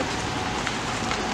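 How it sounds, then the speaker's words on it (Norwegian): Steady rain falls outdoors, a dense, even hiss of drops hitting surfaces with no pauses and no voices. "Det regner jo sånn da."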